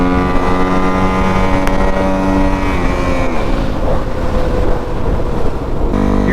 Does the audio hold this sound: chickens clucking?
no